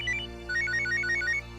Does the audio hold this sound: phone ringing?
yes